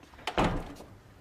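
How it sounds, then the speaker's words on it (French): A door pushed shut indoors: a quick initial knock followed by a single solid thump, close and fairly loud, then a short fading rattle. "La porte fermée en plus."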